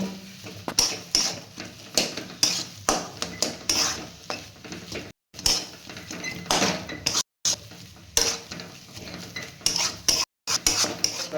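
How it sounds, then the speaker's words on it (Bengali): Vegetable chop filling being stirred in a pan, a utensil scraping and clinking against the metal with a light sizzle underneath, in repeated irregular strokes with a few brief pauses. "এটাকে ভালো করে মিক্স করে নেব।"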